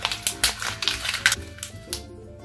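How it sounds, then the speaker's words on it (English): A torn-out journal page is crumpled by hand in a quick series of crisp, crackling crunches that fade toward the end. "Tear out and crumple."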